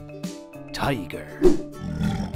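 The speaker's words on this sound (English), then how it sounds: "Tiger." A tiger lets out a rough, rising roar that peaks midway, fairly close, and is layered over a background musical bed.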